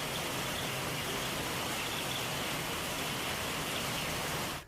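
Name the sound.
rain falling in the city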